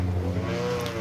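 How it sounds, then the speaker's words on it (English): Mark 1 Ford Escort rally car on a forest rally stage, its engine droning steadily at mid revs from a moderate distance, with a short, even note and no voices. "Mark 1 Escort, the ex-Malcolm Wilson car"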